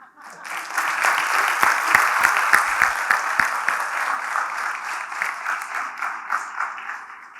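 An audience applauds before a panel session on people with disabilities in industry, steady sustained clapping from a crowd that builds quickly and tapers slightly toward the end.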